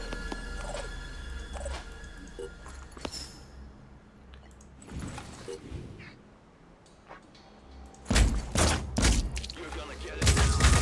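Automatic counterfire in the game Terror from the Void: scattered sharp gunshots early on, then a loud cluster of heavy rapid shots near the end, close and punchy over a low background hum.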